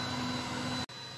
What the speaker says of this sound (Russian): Вентилятор теперь как положено на шаговый двигатель заработал